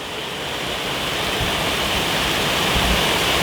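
Fast-flowing river water rushes steadily in Rucăr, Romania, a loud, dense, continuous broadband roar with no pauses, close by and alone without voices.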